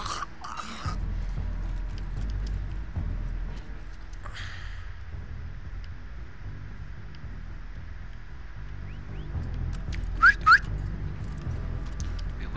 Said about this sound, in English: Whistling now? Whistle boys?